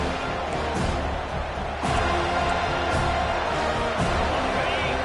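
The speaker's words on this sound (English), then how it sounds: "Decibels rising as the crowd gets behind this defense on third down" Video-game football stadium crowd roaring steadily on a third-down defensive stand, a dense, loud wall of cheering and noise with a few sharper bursts, no talk over it.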